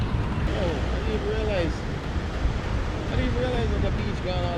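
Ocean surf rolls onto the beach at Byron Bay, Australia, as a steady, loud wash blended with wind buffeting the microphone. Voices talk faintly over the waves.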